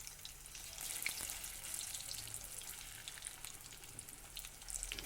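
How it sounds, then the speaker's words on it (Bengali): Pointed gourd fritters fry slowly in oil on a low flame, giving a soft, quiet, continuous crackle with faint spatters and no talking. "গ্যাসের ফ্লেমটাকে একদম লোতে করে দিয়ে এটাকে আস্তে আস্তে করে ভেজে নিতে হবে বড়াগুলোকে"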